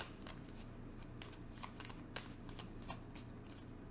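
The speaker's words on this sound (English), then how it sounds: "let's pull some more cards" Tarot cards being shuffled by hand, soft rapid riffling and flicking at close range with brief pauses between bursts, quiet and without talking.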